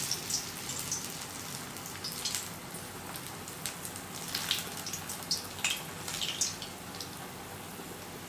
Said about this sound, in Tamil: நல்லா சூடான எண்ணெயில் போட்டு பொரிச்சு எடுத்துடலாம்